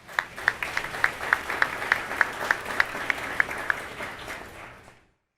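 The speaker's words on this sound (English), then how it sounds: "So let's give them a round of applause." Conference audience applauding, a steady wash of many hands clapping with sharper individual claps standing out, sustained for several seconds before cutting off abruptly.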